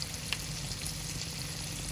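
Radish frying in a pan with a steady crackling sizzle that holds at one level throughout, close and alone with no voices.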